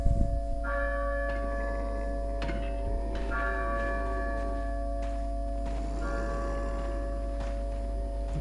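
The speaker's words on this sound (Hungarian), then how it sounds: "La campana. Es hora de rezar." A village church bell in Resident Evil 4 tolls in slow, resonant strikes, several rings spaced a couple of seconds apart over a low ambient hum, with no talking.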